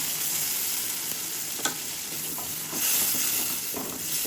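Shrimp sizzle and fry steadily in a pan, a continuous bright crackling hiss with occasional sharper pops and a brief swell in intensity, close and unaccompanied by voices.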